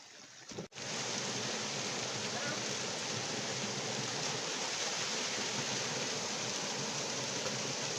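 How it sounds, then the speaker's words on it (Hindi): A forest river in the mountains of Pauri Garhwal, Uttarakhand, rushes in a steady, dense roar that starts after a brief knock and then continues evenly to the end. "देखिए सामने नदी का पानी और काफ़ी खतरनाक रास्ते हैं"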